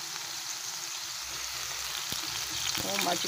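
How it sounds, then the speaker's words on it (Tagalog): Garlic and onion sautéing in a little oil, a soft continuous sizzle close by with a few faint clinks near the end and a hint of voice. "konting mantika para magisa natin yung ating ahos, bawang tsaka sibuyas"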